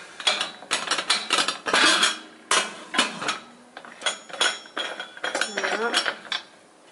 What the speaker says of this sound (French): on va fermer l'autocuiseur et laisser cuire à feu moyen